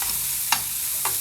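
Garlic sizzles steadily in a hot pan, a constant frying hiss broken by two short scraping strokes of stirring, close and alone without voices.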